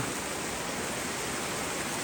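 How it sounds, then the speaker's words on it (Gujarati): Heavy rain pours down steadily with a dense, continuous hiss of falling water and runoff, loud and unbroken throughout with no other sounds. "બહુ બધો વરસાદ થાય"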